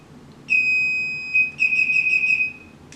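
Electronic beeps from an electric TV cover lift controller: a steady high tone from about half a second, a short gap, then a run of rapid pulsed beeps, close and clear with no talking.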